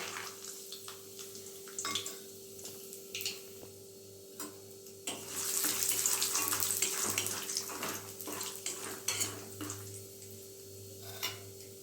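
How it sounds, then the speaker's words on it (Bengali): Peanuts frying in a pan, a soft sizzle under a steady hum, punctuated by light clicks and rattles of stirring, swelling into a louder hiss midway before settling back. "এবার ভেজে নেব কিছু চীনা বাদাম।"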